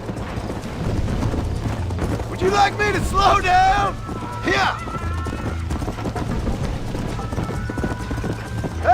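Horse hooves clip-clopping in the Red Dead Redemption video game, a steady rhythmic gallop running under in-game character speech and a brief whinny, with wind noise in the background.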